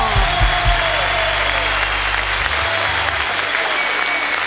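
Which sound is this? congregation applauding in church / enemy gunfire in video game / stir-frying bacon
congregation applauding in church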